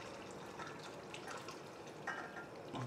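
Broth is poured into a coq au vin sauce, a continuous close liquid pouring and splashing sound that holds steady for a few seconds.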